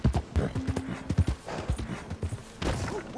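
Horse hooves clip-clop in Red Dead Redemption II, a steady run of close, loud hoofbeats through a town.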